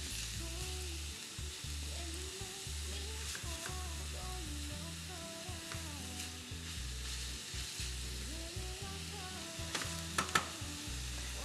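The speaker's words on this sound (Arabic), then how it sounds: "لكن احنا هلا عم نلوح البصل" Onions sauté in a hot pan with a steady close sizzle and fry, broken by short stirring scrapes, while a voice talks quietly over the cooking.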